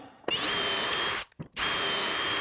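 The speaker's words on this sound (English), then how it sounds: "I will drill and verify that's gonna work." A power drill runs at steady high speed while drilling into a wooden frame for a metal print, one long whine, a brief stop and restart, then another sustained run, loud and close with no talk.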